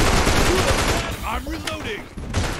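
Dense, rapid gunshots in the free multiplayer zombie shooter Mega Zombie on PS5, loud and continuous at first, then dropping back under game voices before firing resumes at the end.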